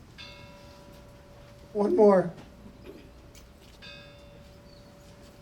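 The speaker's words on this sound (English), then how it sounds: "Could we have a strike on the bell" A ship's bell is struck once at a remembrance ceremony, its ringing tone hanging clearly and fading under brief speech before and after.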